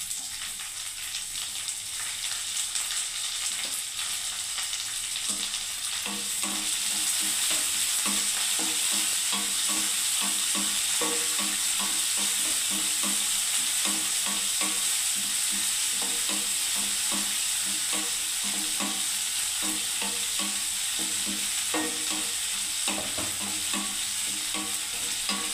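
Onion and garlic frying in a pan for lemon rice, a steady close sizzle with frequent stirring scrapes and clicks throughout, no voices.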